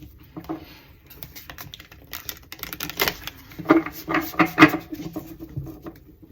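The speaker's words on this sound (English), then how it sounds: "let me go ahead and shuffle" Tarot cards shuffled by hand in a quiet room, a run of soft papery riffles and taps that grow louder and denser midway before easing off, with no talking.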